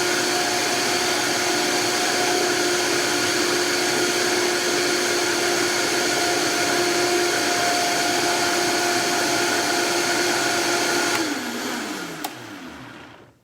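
A blender runs on high, blending vegan ranch dressing with a loud, steady whir that holds at constant pitch for several seconds, then spins down and fades as it is switched off.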